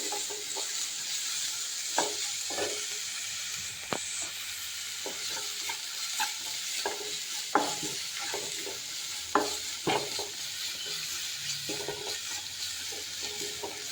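Spices and fenugreek powder sizzle steadily in a hot pan as a Kerala-style dish is sautéed, with a continuous frying hiss broken by repeated short scraping stirs and clinks of a spoon, close and moderately loud, no talking.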